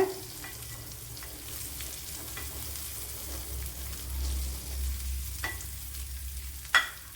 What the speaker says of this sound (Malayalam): ഒരു ചട്ടി വെച്ച് എടുത്തിട്ടുണ്ട് അങ്ങനെ ഉണക്കമീനൊക്കെ ഉണ്ടല്ലോ തല ഉൾപ്പെടെ ഫ്രൈ ചെയ്തെടുത്തിട്ടുണ്ട്